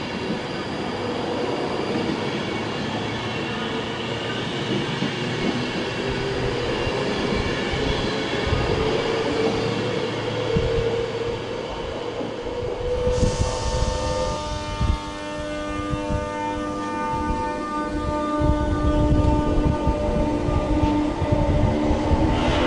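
A train at Wilmslow station rumbles close by with steady rolling noise, grinding and squealing wheels sustained over about twenty seconds, swelling louder toward the end.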